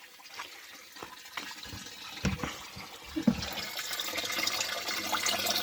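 Water circulating through a small hobby hydroponic growing setup, a steady trickling and splashing flow with a few louder gurgles, building slightly toward the end, no voices.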